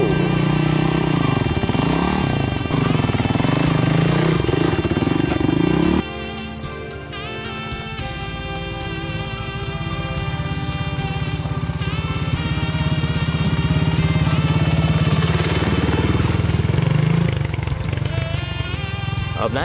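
A motorized vehicle's engine runs at a race start, a loud, steady droning that dips in pitch about a third of the way through, then climbs and holds strong to the end.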